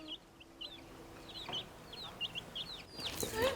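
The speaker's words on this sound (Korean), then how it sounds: "병아리 여기서 키우고 있어." Young chicks about twenty days old peep repeatedly inside a winter greenhouse on a farm in Paju, with high, rapid, overlapping calls close by over a low background hum.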